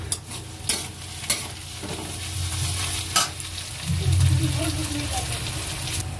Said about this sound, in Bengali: এখানে পেঁয়াজটা প্রায় ভাজা হয়ে এসছে।